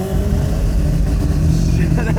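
A Mazda RX3 with a four-rotor 26B rotary engine revs hard and close, a dense, continuous roar that holds steady for the whole stretch and climbs slightly toward the end.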